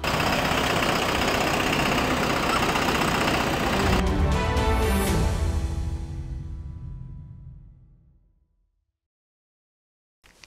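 Farmlead FL 1104 tractor with a Weichai engine idling up close, a loud steady diesel rumble that changes character partway, then fades away into silence.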